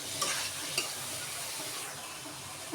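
Onion and garlic paste sautés in a pan for a salted hilsa fish dish, a constant close sizzle with a couple of brief scrapes from stirring.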